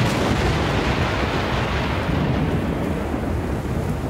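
A rumbling, explosion-like roar produced with a guitar amplifier in the outro of a song, a dense, thunderous wash that stays loud and steady throughout with no voices.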